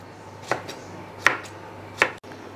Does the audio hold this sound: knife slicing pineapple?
yes